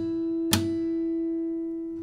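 A percussive slap on the 3rd and 2nd strings of an acoustic guitar in a fingerstyle arrangement, with the 1st string muted. A single sharp hit lands over a sustained ringing note that fades slowly.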